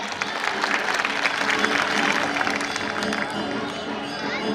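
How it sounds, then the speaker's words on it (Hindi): A large crowd claps at a political rally with Manoj Tiwari: dense, continuous applause that fills the whole stretch, loud and steady with a slight easing toward the end, with some crowd noise mixed in. "तो एक बार आप सब लोग अपने स्वयं के लिए ताली बजाएंगे कि आप मोदी जी के घर में रहते हैं"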